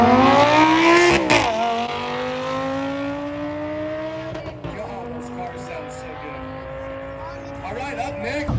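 A Dodge Viper engine at a supercar event pulls hard in a loud close sweep that climbs steadily in pitch, drops at a shift, then climbs again, with a voice heard briefly over the roar.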